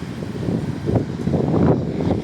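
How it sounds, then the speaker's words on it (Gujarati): Strong wind buffets the microphone in rough gusts, a low roar that swells and fades for a couple of seconds. No one speaks. "એવો પવન ગાજે"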